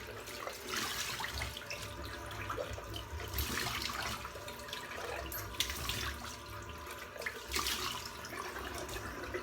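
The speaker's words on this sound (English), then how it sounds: "And then get the old cold water going," Cold tap water runs steadily into a sink for rinsing after a wet shave, a continuous broadband splash with small surges, close and alone with no talk.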